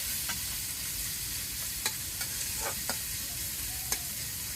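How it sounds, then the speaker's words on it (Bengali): Raw fish frying in a pan with onion and ginger, a soft steady sizzle with a few sharp stirring clicks and knocks, no voices. "পেঁয়াজটা আদা ভাজা হয়েছে আচ্ছা তারপর কাঁচা মাছ ভাজি করার জন্য দিয়ে দিলাম"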